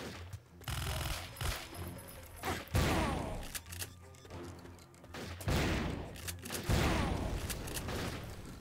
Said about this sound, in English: The almighty power of shotgun.